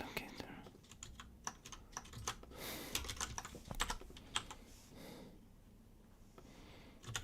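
Rapid clicky typing on a computer keyboard during a programming session, close and steady bursts of keystrokes with some soft breathing and quiet murmured speech.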